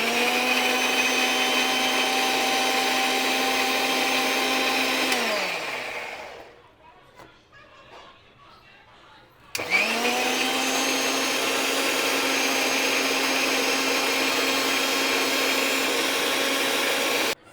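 A kitchen mixer grinder blends mangoes for aamras with a loud, steady motor whine. It winds down after about five seconds, falls quiet briefly, then restarts at full speed and runs on.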